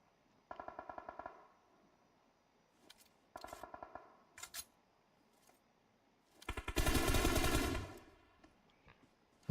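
Automatic gunfire in a PUBG Mobile esports match: several rapid bursts of fire, followed by a longer, louder and denser volley near the end, with no talking.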